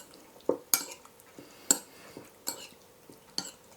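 Beef marinade with sesame oil and sugar is stirred in a bowl: a handful of sharp utensil taps and scrapes against the dish, spaced irregularly over a quiet background.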